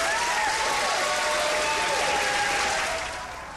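Scientists at the Center for Nuclear Research in Switzerland, standing with champagne bottles, cheer and applaud in a dense, continuous roar of clapping that tapers off at the end.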